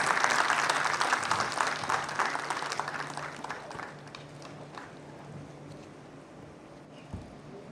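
Audience applause at a tribal community nature-worship gathering, a dense burst of clapping that is loudest at the start and fades to a softer patter over several seconds.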